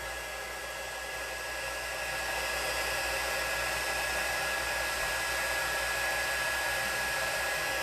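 Heat tool blowing steadily and continuously for several seconds while heat embossing powder on double-sided sticky tape, a close, even broadband whoosh with no talking.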